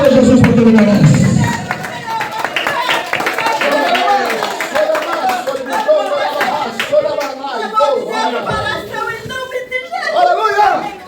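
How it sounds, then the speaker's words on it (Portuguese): A church congregation in rural Alagoas claps and cheers amid lively chatter and shouts of praise, with a loud voice at the start and rippling applause continuing throughout. "Aplauda Jesus porque ele merece"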